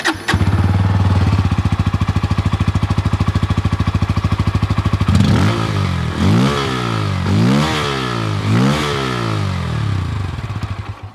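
A Bajaj Pulsar N160 motorcycle idles with a steady, rapid exhaust pulse, then revs up and down in several loud, close throttle blips that rise and fall in pitch.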